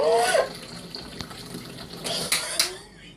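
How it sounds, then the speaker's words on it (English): A cat laps from a running pet water fountain, with a soft trickle of water and faint light splashes under a steady low hum, then a few louder bursts of movement and water near the end. "Smart cat. Getting water from the fountain."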